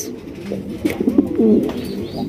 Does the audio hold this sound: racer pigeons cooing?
yes